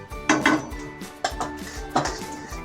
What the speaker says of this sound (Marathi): ते ही आपले भाजून झालेले आहेत, आपण काढून घेऊया।